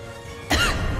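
A single harsh cough bursts out halfway through after quiet background, close and fairly loud, trailing off.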